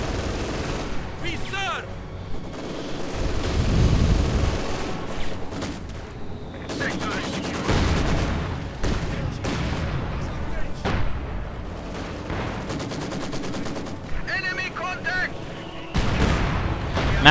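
In the Company of Heroes 2 battle game, gunfire and mortar fire crack and thud in bursts and rolling volleys, with heavy booms scattered throughout while a commentator talks over the action.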